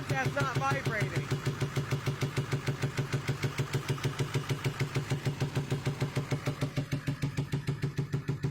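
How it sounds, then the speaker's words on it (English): Close, steady idle of a 2000 Ford F-350 7.3 diesel, its even rhythmic chug punctuated by popping from a backfire through the air intake, with someone speaking briefly near the start. "It sounds like it's backfiring through the air intake."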